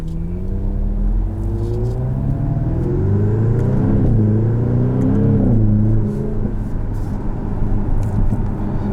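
A 2021 Jaguar F-Type Convertible P300 with a four-cylinder engine accelerates through the gears, its rising engine note and drone heard from inside the cabin, loud and steady.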